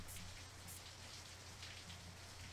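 A rainstorm in the video game Hellenica: dense, steady rain hissing on surfaces with a constant low hum underneath, faint and even throughout, with no talk.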